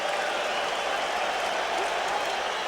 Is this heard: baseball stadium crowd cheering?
yes